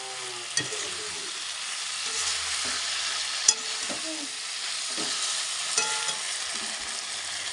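Eggplant frying in a pan while being stirred, a steady close sizzle broken by repeated spatula scrapes and a few sharp knocks against the pan, with no voices.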